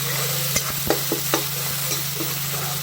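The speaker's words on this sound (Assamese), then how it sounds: "ইয়াতে কুটি লোৱা আদা, নহৰু আৰু কেঁচা জলকীয়াখিনি দি আকৌ এইখিনি অকণমান সময় ভাজি ল'ম।" Chopped ginger, garlic and green chili frying in a pan for restaurant-style dal fry, a steady sizzle with several sharp scraping and stirring knocks of a spatula close by, no talking.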